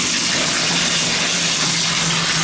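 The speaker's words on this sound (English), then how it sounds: "And I'm just going to turn on the water." Water gushes steadily from a bathtub tap turned fully to hot, a loud, broadband pouring rush with strong pressure that runs evenly throughout without any talk.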